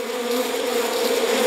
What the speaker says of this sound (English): You've just had a swarm of bumblebees invade your brain